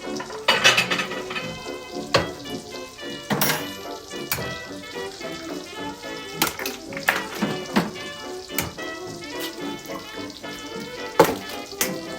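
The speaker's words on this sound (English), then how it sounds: "I'm going to scramble these eggs" Eggs being scrambled in a pan on a 109-year-old kitchen range, a utensil repeatedly scraping and tapping the pan over a quiet sizzle, irregular stirring strokes heard up close without speech.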